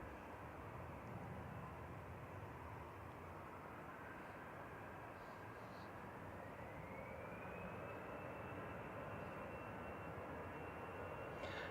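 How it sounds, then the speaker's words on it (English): A six-year-old EasyJet Airbus A320 passes overhead near Manchester Airport, its jet engines a steady, broad roar with a faint rising whine, heard alone at moderate distance. "Here goes EasyJet over to Alicante."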